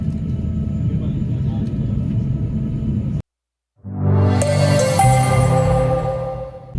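Inside a Singapore Airlines flight cabin, a steady low engine drone and hum fills the first few seconds, then cuts out briefly before a louder, tonal mix of cabin noise returns.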